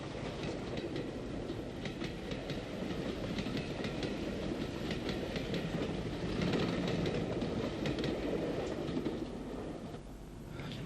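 Ex-LMS NCC steam locomotive number 264 passes on an Ulster railway line, with a continuous loud rumble and clickety-clack of wheels over rail joints that eases slightly near the end.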